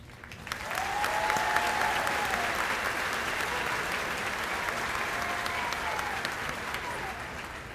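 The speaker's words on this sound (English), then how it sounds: "Let's give these brave individuals one more round of applause" A high school graduation audience applauds steadily for seniors enlisting in the military, a dense, even round of clapping with a few faint whistles, starting after a brief quiet moment and holding to the end.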